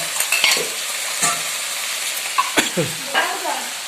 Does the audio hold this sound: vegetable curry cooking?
yes